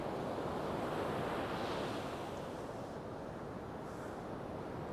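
Rough sea surf breaks continuously on an East Coast beach at Sutton on Sea, a loud, steady wash of crashing waves mixed with wind buffeting the microphone, with no voices.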